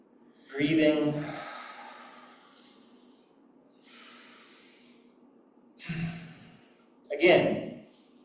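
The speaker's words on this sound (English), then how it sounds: "Breathing." Audible inhales and exhales during a qigong healing-sound exercise, with bursts of breath near 0.7, 6 and 7.2 seconds and softer airy breathing between, close and fairly clear.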